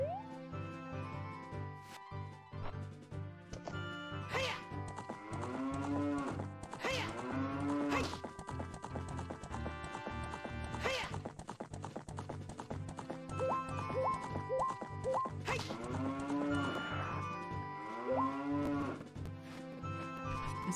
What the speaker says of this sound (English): Is Epona mooing?